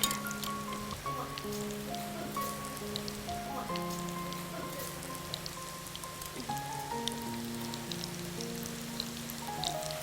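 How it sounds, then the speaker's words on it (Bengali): Lachha semai vermicelli deep-frying until crisp gives a steady, dense crackle like rain, running continuously beneath louder background music with sustained tones. "ক্রিস্পি করে ভেজে নিতে হবে"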